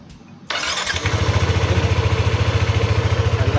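A Yamaha NMAX V1 scooter engine cranks and catches after its spark plug cap is replaced, then settles into a steady, rhythmic close-up idle with a pulsing putter.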